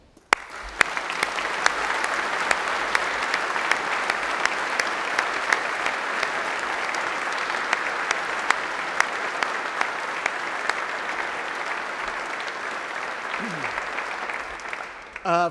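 Sustained audience applause at a university graduation ceremony fills the hall steadily for about fifteen seconds, dense and even, with a brief low sweep near the end.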